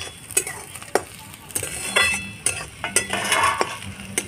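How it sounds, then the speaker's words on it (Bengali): Carrot, onion and chopped chilli frying in a pan, with a steady close sizzle and repeated sharp scrapes and clinks of a spoon stirring every half second or so. "গাজর, পেঁয়াজটা আর লঙ্কাটা ভালো করে ভেজে নিতে হবে।"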